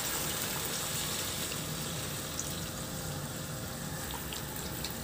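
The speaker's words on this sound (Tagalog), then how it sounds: "Lagyan ko na rin ng tubig." Water poured from a tap into a pot of pork pata being braised, a steady broadband rushing and splashing that stays even and close for the whole stretch with no talk.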